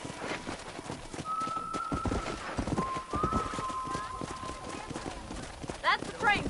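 Horse hooves clip-clop steadily in the Red Dead Redemption video game, with a horse whinnying near the end, while characters talk over the riding.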